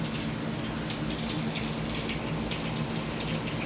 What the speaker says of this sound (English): It's definitely raining here.